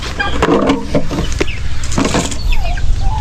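Turkeys and native chickens clucking and calling close by, with chicken-like squawks and turkey gobbling over a steady barnyard background.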